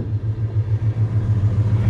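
A 1978 Chevrolet El Camino engine idles smoothly and steadily up close, a low, even rumble with a regular pulsing throb and no talk.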